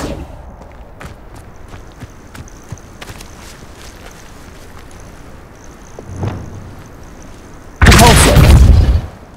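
The Confringo spell explosion in Hogwarts Legacy, a loud, close blast bursting out after a stretch of quiet footsteps and faint ambient ticks, holding for about a second before cutting off.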